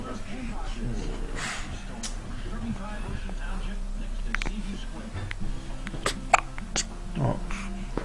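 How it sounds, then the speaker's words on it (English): Repeated hiccups from a man, short sharp bursts scattered through an indoor scene with steady low background noise and some talk. "Uh-oh, you got the hiccups."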